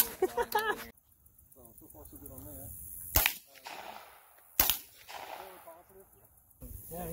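Two sharp gunshots ring out at an outdoor shooting range, spaced a second or so apart, with men chatting and laughing around them.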